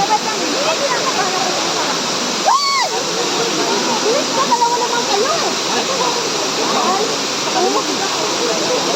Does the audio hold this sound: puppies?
no